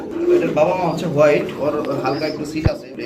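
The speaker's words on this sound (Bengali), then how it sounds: "এখানে রয়েছে আরেক পেয়ার কবুতর বা এটা কি কবুতর জুড়া ড্যানিশ কবুতর" Danish pigeons coo close by in a series of soft, throaty, rising-and-falling calls, with someone talking over them.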